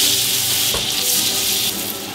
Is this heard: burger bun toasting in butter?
yes